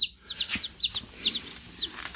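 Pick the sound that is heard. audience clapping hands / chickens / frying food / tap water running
chickens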